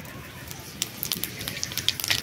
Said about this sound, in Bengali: মাছ ভাজার তেলেই রান্নাটা হবে। দিয়ে দিচ্ছি ফোড়নে 5 ফোড়ন